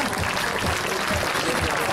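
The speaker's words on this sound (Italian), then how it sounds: "Un forte applauso per il solista della pattuglia Águila" Crowd applause at the Jesolo European Air Show 2017 for the Patrulla Águila soloist, a dense, steady clapping wash from an outdoor audience, with an announcer's amplified voice over it.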